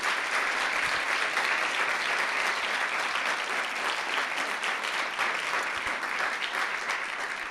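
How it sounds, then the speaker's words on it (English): Sustained, dense applause from an audience at a poetry student workshop at the White House, honoring the poets: a steady, loud wash of many hands clapping continuously for over seven seconds without pause. "I want to give one last round of applause to all of the poets."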